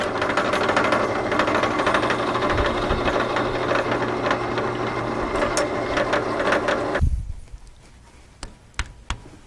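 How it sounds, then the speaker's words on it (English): A wood lathe turning at its lowest speed, around 400 RPM, gives a steady, loud mechanical hum and rattle with rhythmic clatter that cuts off abruptly near the end, leaving a few faint knocks. "That's my lowest speed on this lathe. It's around 400 RPM."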